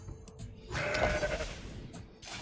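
A mountain goat card in a digital card game gives a single short bleat over a quiet background hiss.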